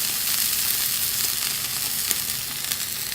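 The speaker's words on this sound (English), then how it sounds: "while that's pan searing" Pork searing in a hot oiled pan, a steady dense sizzle and crackle heard close, continuous throughout with a few faint pops.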